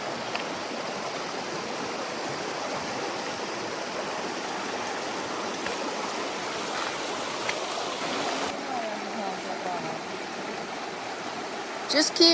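A mountain stream along the Continental Divide Trail during a stormy day flows with a steady, even rush of water from nearby. It holds constant throughout, with a couple of brief knocks near the end.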